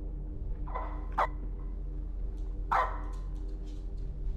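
A dog in a horror video game barks three times, sharp and fairly close, with irregular gaps between the barks, over a low steady background hum.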